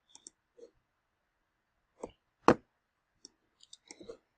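Sharp, isolated clicks on a computer, a few light taps scattered across a quiet stretch and one louder, fuller click in the middle, with no talking.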